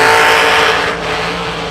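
The Z-Beast, a blown drag racing car, launching down the right lane at a drag strip: a loud, sustained engine roar that dips slightly partway through, with no voices.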